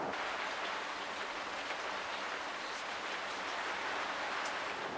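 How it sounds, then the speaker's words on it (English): Heavy rain falls steadily and densely, a constant loud hiss of drops drumming on surfaces outside, with no voices and no letup for the whole stretch. "Now it's raining so hard you can probably hear it."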